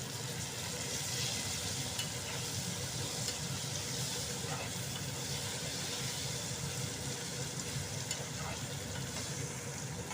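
Onion and curry leaves fry in a pan for amla rice, a steady hissing sizzle at moderate level that continues evenly throughout.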